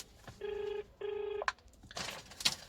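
Two long electronic telephone ring bursts on a call to a customer that goes unanswered, each under a second with a short gap between, followed by faint handling clicks and brief noises.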